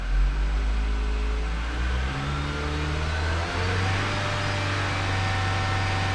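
A Nissan four-cylinder engine, from a 2012–2019 Versa or Sentra, is heard up close as it blips from idle to around 3000 RPM. The loud, smooth drone rises in pitch and then holds steady.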